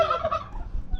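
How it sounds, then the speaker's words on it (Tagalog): A pet turkey gives one short, rattling gobble at close range, fading into quieter low rustling within a second. "Ganda na pabo."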